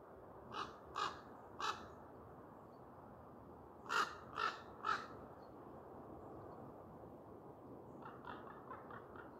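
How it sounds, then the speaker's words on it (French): A crow caws from some distance outdoors in two bursts of three harsh calls, then a quicker, fainter run of caws follows, over a soft, steady background hiss. "nous avons le corbeau qui vient nous dire bonjour"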